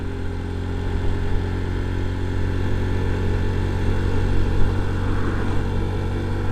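A 2023 Honda Trail 125 motorcycle pulls at full throttle in third gear: a steady, loud, droning single-cylinder engine note with strong wind rush that swells slightly toward the end, with no voices.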